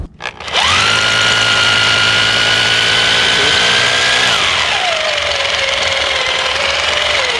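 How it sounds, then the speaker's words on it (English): A power drill spins up sharply and whines loudly and steadily, then its pitch drops as it bites into material drilling holes for a ferro-cement water tank, continuing close and unbroken. "show folks how to drill these holes"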